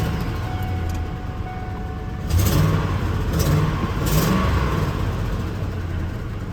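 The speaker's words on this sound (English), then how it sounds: "there is a pretty sizable leak on the exhaust manifold on the passenger side. It sounds kind of like a tank" A tow truck engine with a leaking passenger-side exhaust manifold runs at a rough idle, its low rumble swelling in three short blips of throttle before settling back.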